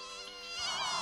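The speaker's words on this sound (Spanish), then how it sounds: "¡Otra vez! ¡Un mosquito!" A high, whining mosquito buzz with wavering harmonic tones, steady and close, growing slightly louder toward the end of a short moment, with no voices.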